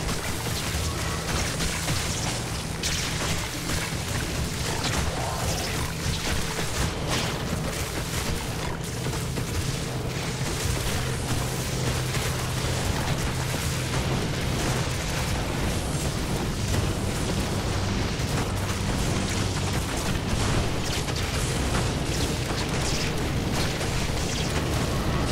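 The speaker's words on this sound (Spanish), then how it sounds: "La explosión de cadáveres" Corpse Explosion skill blasts in Diablo II: Resurrected, played on Hell difficulty, form a dense, loud, continuous wall of overlapping booms and bursts with constant low rumble throughout.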